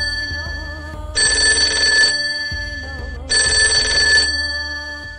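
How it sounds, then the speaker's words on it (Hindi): Telephone ringing on an outgoing call, two long electronic ring bursts separated by a pause, loud and close over a low background hum. "खैर अदनान और गफूर को फोन करता हूँ"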